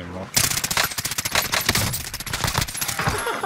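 Rapid automatic gunfire rattles in dense close bursts in Call of Duty Cold War Warzone, loud and continuous for several seconds with game sounds mixed in.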